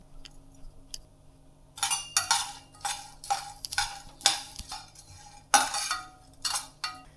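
Dried mango seeds roasting with ghee in a pan give off a series of sharp clinks and rattling clatters in irregular bursts, fairly close and with no voices.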